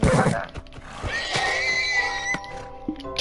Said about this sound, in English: Meantime, I'm gonna kill some horses.